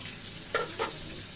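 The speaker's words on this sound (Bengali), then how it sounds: "এই পাংখাস মাছগুলো ভাজা হচ্ছে" Pangas fish frying in hot oil in a home kitchen, a low steady sizzle with two brief louder spatters close by.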